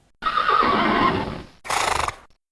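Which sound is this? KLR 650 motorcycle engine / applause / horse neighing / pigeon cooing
horse neighing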